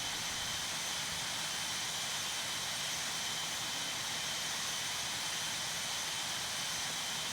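A British Airways 767 jet airliner roars down runway 06 and lifts off, a dense, steady engine rumble and hiss that stays loud and unchanging throughout.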